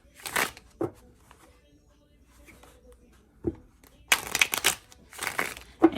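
Tarot cards being shuffled by hand in several brisk, crisp riffling bursts, close and fairly loud, separated by quieter pauses.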